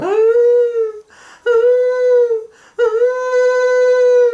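A voice imitates a creature's long bawling howl, three drawn-out wailing cries with brief breaks between them, loud and close.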